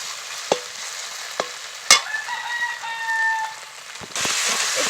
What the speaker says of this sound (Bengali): তো খুব ভালো করে ভেজে নেব আদা রসুনটাকে পেঁয়াজের সঙ্গে।